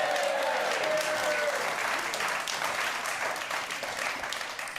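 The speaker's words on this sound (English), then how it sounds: "Give a round of applause for Les Bubb." Audience applause for a comedy performer at a live Friday night comedy show: a loud, sustained wash of clapping from a full room, tapering only slightly over several seconds.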